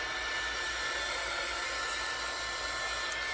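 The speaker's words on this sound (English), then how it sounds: "A handy little dandy dryer." Handheld craft heat dryer blows steadily to dry paint, a constant close whooshing hiss with an even whine, no pauses and no talking.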